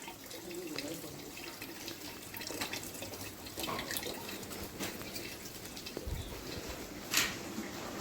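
Rainwater runs off after a morning downpour, a faint continuous trickle and gurgle with scattered drips and a sharper splash near the end, quiet and steady with no voices.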